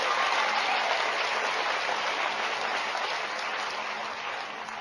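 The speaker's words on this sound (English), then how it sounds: "Give her a great round of applause" Sustained applause from an audience for Sarah Coleman after her introduction of the next speaker, a dense steady wash of clapping at even loudness throughout, tapering slightly toward the end.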